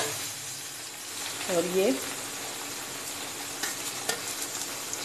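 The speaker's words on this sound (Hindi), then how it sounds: "इसमें कटी हुई शिमला मिर्च डाल देंगे, प्याज डालेंगे" Chopped capsicum and onion fry in a pan with a steady close sizzle while being stirred, and someone speaks briefly over the cooking noise.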